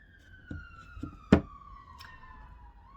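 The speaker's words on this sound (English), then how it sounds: "Oh, sirens." A distant siren wails steadily, its pitch gliding slowly downward, with a few nearby knocks and a sharp thump partway through.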